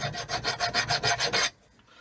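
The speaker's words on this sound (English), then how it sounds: "I've taken a file" A metal file rasps across a brass beer pump in about eight quick, even back-and-forth strokes, close and gritty, then stops into near silence.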